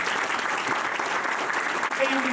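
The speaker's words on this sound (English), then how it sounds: "ladies and gentlemen, a round of applause and welcome to the Hall of Fame" Sustained audience applause fills a Hall of Fame induction ceremony for a lacrosse program, a steady dense wash of clapping from a large crowd with no voices rising above it.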